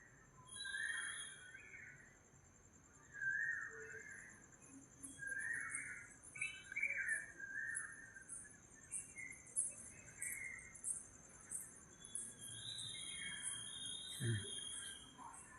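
Morning birdsong around a house, with a koel calling among other birds: repeated bright chirps and whistled calls over a faint insect hum, distant and fairly quiet, with a brief low thump near the end.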